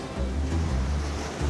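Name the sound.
sea waves at Ram Setu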